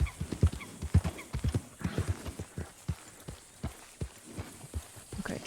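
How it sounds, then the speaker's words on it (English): Horses in Red Dead Redemption 2 walking on open ground, their hooves clip-clopping in an uneven rhythm close by, with a brief whinny among the steps. "Hello, horses!"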